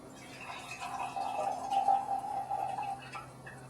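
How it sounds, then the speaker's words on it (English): Tea liquor poured from a pitcher into a bowl: a soft, steady trickle of liquid running for a few seconds, close and quiet, with no talking. "So I'm going to give it a pour."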